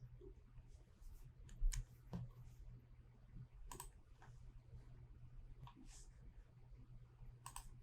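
Quiet, sparse computer mouse clicks sound one at a time at irregular intervals over a soft low hum from the computer.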